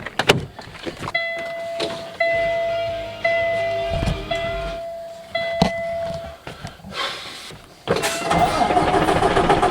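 A farm grain truck starts at the first day of corn harvest. Steady dashboard chimes and clicks come first, then the engine cranks, catches and settles into a loud, close idle.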